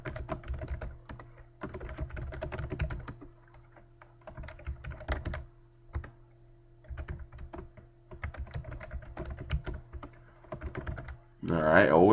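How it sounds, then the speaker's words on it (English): Keys on a computer keyboard clatter in uneven bursts while a document is being typed, with short pauses between runs of keystrokes, close and moderately loud, and a voice speaks briefly near the end. "I'm going to type out this stuff."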